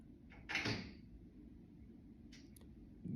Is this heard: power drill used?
no